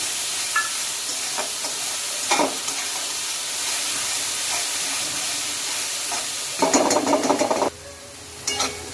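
Ground tomato puree sizzles and spits in a hot pan, with bursts of scraping as a spoon stirs it. No one speaks.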